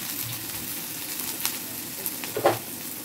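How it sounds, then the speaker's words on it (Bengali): Cut brinjal pieces fry in hot oil in a home kitchen after a tempering of black cumin and dried chillies, giving a low, continuous sizzle with a couple of light utensil taps and one sharper clatter near the end. "আর এই যে কেটে রাখা বেগুনগুলো আগে দিয়ে ভেজে নেব।"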